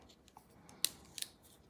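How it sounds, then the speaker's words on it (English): Small scissors on a Roxon Mini Flex multitool snip twice, sharp crisp cuts close to the microphone in a quiet room, the second cut following the first after a short pause. "So these are very usable small scissors"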